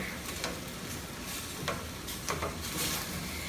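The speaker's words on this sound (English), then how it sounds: "And give that a stir." A spoon stirs asparagus and spinach risotto in a pot on the stove, giving soft, faint scraping and swishing strokes over a quiet simmering sizzle, with no talking.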